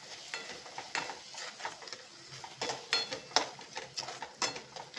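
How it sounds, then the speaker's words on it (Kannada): A spoon scrapes and stirs spice masala frying in a pan for drumstick gojju, giving irregular close clinks and scrapes over a soft, steady sizzle. "ಒಂದು 2 ನಿಮಿಷ ಫ್ರೈ ಮಾಡ್ಕೊಳ್ಳೋಣ."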